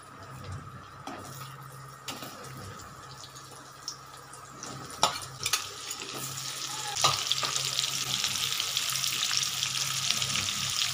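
Potatoes and onions fry in a pan with a cabbage and shrimp dish, crackling steadily with occasional clinks and stirring, and the sizzle grows louder toward the end.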